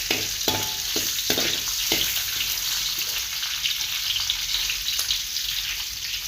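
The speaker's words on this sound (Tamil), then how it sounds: "ஒரு வெங்காயம் அப்படியே போடலாம் தப்பு இல்லை சரியா அப்படியே லைட்டாக ஒரு கிண்டு கிண்டிக்கணும்" Whole onion pieces sizzle in hot oil in a pan for a quick spice-free curry. The frying is steady and bright, and a few scraping knocks from light stirring come early on.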